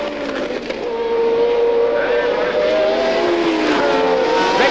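1979 Formula 1 race cars roar through the chicane at the German Grand Prix, a loud engine howl building and sustaining as the cars pass, with a commentator talking over it.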